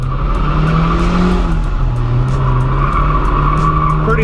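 A car's tires squeal continuously while it drifts in a controlled donut around a cone, the engine droning steadily under loud, close, sustained screeching.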